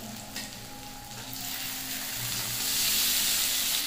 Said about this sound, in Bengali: ভালো করে ভেজে নেবো টমেটো কুচি আদা রসুন পেঁয়াজের সঙ্গে